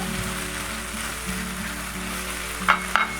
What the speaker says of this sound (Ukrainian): І ще приблизно 2-3 хвилинки розсмажуємо.